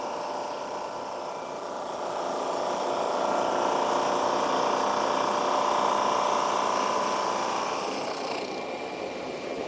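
A sander runs steadily as a wooden cutting board is fed through it, making a loud continuous whirring drone that swells slightly midway and then cuts off near the end.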